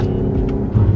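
An 8-speed car drives and changes gear from the inside, a close engine drone with a brief dip and then a rising low rev near the end, over road rumble.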